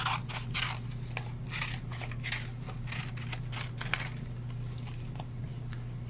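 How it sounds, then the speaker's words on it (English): Scissors roughly cutting around a paper card flower, repeated close snips in a quick, uneven rhythm over a steady low hum, quieter toward the end, with no talk. "I'll just roughly cut around so it's easier to"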